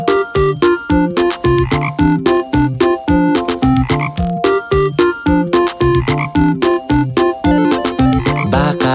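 Frog croaks repeat in a steady, rhythmic pattern over the backing music of a Kazakh children's song about a frog, loud and continuous with no voices.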